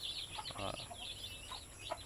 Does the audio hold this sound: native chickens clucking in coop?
yes